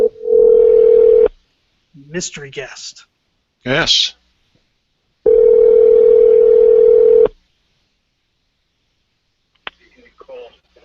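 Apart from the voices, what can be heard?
telephone dial tone of an incoming call on air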